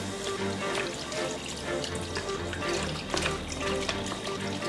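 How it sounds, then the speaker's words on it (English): Tap water runs steadily in a kitchen sink while raw chicken is rinsed under it, a close, continuous splashing wash with small drips and the odd clatter. "I'm just wash it off with water first."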